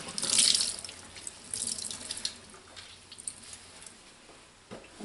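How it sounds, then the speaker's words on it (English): Water runs from a tap into a sink while a pan is rinsed under it, a steady splashing stream with louder bursts early on and softer trickling and drips after, close by with no talk. "rinse it off. This is just my pan."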